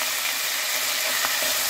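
Veal frying in a hot pot over high heat gives a steady, close sizzle with a soft crackle throughout and no voices.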